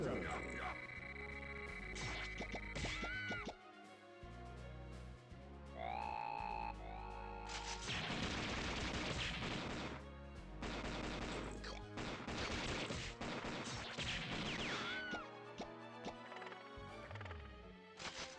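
Heavy machine gun fire in the arcade shooter Metal Slug 6, rapid bursts of game gunfire layered over loud music and sound effects, with pulsing rattling runs under continuous in-game audio.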